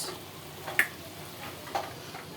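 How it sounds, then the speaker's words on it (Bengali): Bangladeshi country chicken and potato curry with spices sautéed in a pan: a soft, steady sizzle with two distinct scraping stirs of the spoon, close and moderately quiet. "এখন আমি তরকারিটা ভালো করে কষিয়ে নিচ্ছি"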